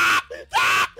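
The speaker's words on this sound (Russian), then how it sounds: "Да, извиняюсь за крики." Players of the climbing game Only Up scream loudly in two sharp bursts, with quieter vocal sounds in the gaps between them.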